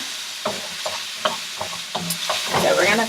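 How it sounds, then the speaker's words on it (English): Shrimp for fried rice frying in a pan over high heat, a steady close sizzle broken by regular scraping stirs, the hiss swelling louder near the end. "So we're going to fry this."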